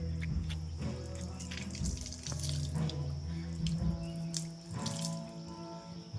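Natural hill spring water runs and splashes, likely into a cupped hand or vessel, with bursts of gurgling and dripping over a soft steady flow at moderate distance.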